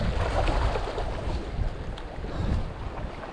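Strong wind sweeping across a sandy beach, a steady roaring rush with low buffeting gusts against the microphone, continuous and loud, with no voices.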